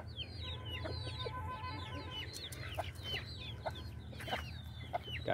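A mother hen guarding her chicks clucks in short repeated calls, with thin chick peeps scattered over a steady low farmyard background and no voices.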